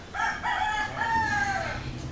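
A rooster crows once, a long, clear cock-a-doodle-doo that rises and trails off, fairly close by.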